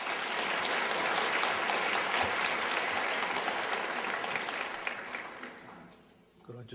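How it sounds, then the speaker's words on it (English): A debate audience gives a warm round of applause, dense and steady clapping filling the hall for several seconds before fading off near the end. "Ladies and gentlemen, let's give a warm round of applause to Yusuf Ismail."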